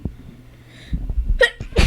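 One person sneezes close to the microphone: a short breathy intake, then a sharp burst, with a trailing noise at the end.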